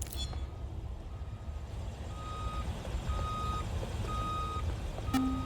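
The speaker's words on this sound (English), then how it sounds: "This is the truck used in the Finsbury attack." A truck idles with a low rumbling engine while its reversing alarm sounds a series of evenly spaced beeps, picked up faintly by distant street cameras, with no talking.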